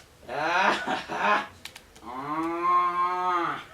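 A buffalo gives two long, drawn-out moos, close and fairly loud, separated by a brief pause with a couple of small clicks.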